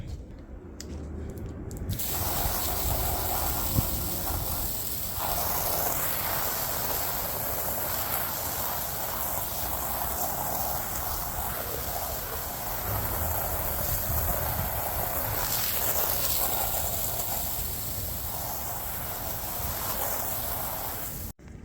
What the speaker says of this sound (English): I'm gonna go ahead and rinse it off immediately.